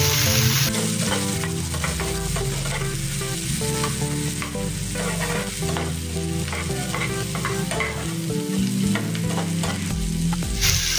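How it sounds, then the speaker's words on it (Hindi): Curry leaves, finely chopped onion and green chilli stir-fry in hot oil, a loud continuous sizzle close by with regular scraping stirs, with steady tonal background music throughout and no speech. "कड़ी पत्ता, प्याज डालेंगे बारीक कटा हुआ और हरी मिर्च भी डालेंगे बारीक कटी हुई और अच्छे से इसको मिक्स करेंगे"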